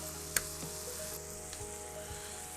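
Burger patties and onions sizzle steadily on a hot griddle, a continuous close hiss with one sharp clack near the start and a few faint scrapes.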